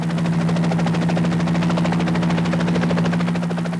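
Steady loud rotor thumping of a helicopter with a constant engine drone, continuous throughout with no voices.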